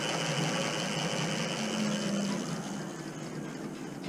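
An electric bike motor run on the throttle after a battery rebuild gives a steady close whirring hum with a faint higher tone, easing slightly toward the end, no talking.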